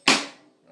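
A single sharp snare drum crack from a drum kit with a bright, noisy attack that decays over about half a second, heard alone.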